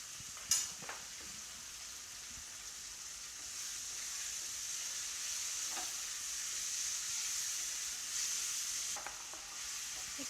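Vegetables for veg chow mein sizzle steadily in a pan, a continuous close hiss broken by a few sharp spatula clicks and stirring scrapes.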